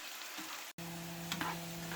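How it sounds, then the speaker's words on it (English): Potatoes frying in a pan to pre-cook them until light brown, a steady close sizzle that cuts out for an instant and resumes with a constant hum beneath. "I am pre-cooking my vegetables, so here I'm frying the potatoes."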